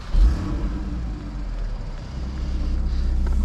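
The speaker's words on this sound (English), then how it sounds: "Let's try to hear how it sounds." A 2013 Porsche Boxster 981 sits idling, a steady low engine rumble that is close and continuous, swelling slightly toward the end, with no voices over it.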